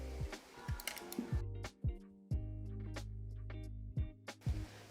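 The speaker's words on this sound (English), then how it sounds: "let's proceed and remove the 2 screws before the skate rolls back into its position" A small screwdriver backs screws out of a Logitech M720 wireless mouse, making close, quiet ratcheting clicks and scraping turns in short irregular bursts with gaps between them.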